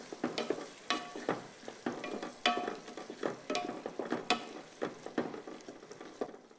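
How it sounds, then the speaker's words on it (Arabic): Onions and beans are stirred in a cooking pot with a spoon, giving repeated scraping strokes in a steady rhythm over a soft sizzle, close and fairly quiet. "هلا ونحركوا كلش مع بعض."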